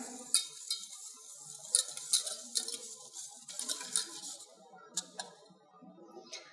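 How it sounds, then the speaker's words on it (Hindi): Chocolate sauce ingredients being stirred together in a pot, a spoon or whisk scraping and clicking against the sides in irregular, fairly close strokes with no talking. "अब अच्छे से इसको मिक्स कर लें।"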